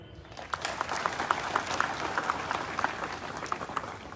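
An audience at a police conference breaks into a burst of steady clapping that carries on for several seconds, heard from a moderate distance and fairly quiet.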